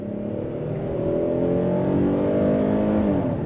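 A 2023 Hyundai Palisade Calligraphy SUV with an 8-speed automatic accelerates in sport mode, its engine note climbing steadily in pitch and loudness from inside the cabin, with no talking.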